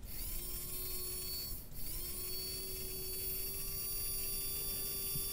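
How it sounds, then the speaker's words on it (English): A motor-driven pinion meshing against a gear makes a steady whining mechanical drone with a high tonal hum. The pitch dips briefly once midway as the pinion skips and grinds, then the drone resumes. "If I hold the motor, you can see that the pinion skips a little bit, and let's listen to it."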